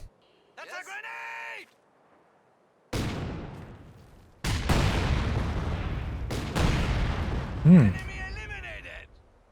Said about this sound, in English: Testing out grenades triggering mines